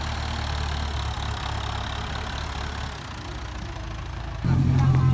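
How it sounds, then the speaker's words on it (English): A speedboat engine idles near Morro de São Paulo island in Brazil, a steady low rumbling drone that steps up louder near the end, with voices faintly present. "We have a speedboat going down."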